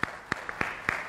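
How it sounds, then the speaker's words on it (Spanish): An audience claps after a student psychology debate in Chiclayo, with a few sparse, distinct claps spaced out over a second, fairly quiet and slightly roomy, rather than a full burst of applause. "Aplausos."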